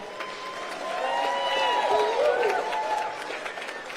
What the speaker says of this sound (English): let's give a round of applause to everyone who stepped up